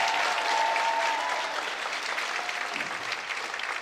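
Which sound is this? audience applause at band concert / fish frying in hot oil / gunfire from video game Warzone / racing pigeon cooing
audience applause at band concert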